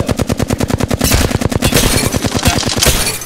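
Automatic weapon fire in the battle royale shooter Apex Legends: loud, close, rapid bursts of shots in a fast, even rhythm, alone without talk.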